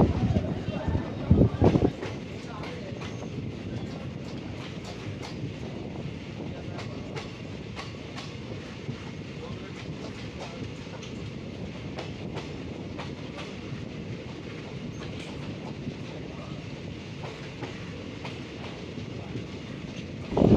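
A Nagarsol–Kacheguda passenger train runs past on a single-track line, its wagons rumbling with a steady clickety-clack that holds for about twenty seconds, heard from close by, with a brief louder knock near the start.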